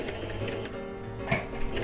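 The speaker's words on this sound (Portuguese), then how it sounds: "Vou vir para a máquina e vou costurar" A sewing machine stitches fabric backed with interfacing for a bench cushion cover, running with a continuous mechanical whir and rhythmic clatter, and a brief knock partway through.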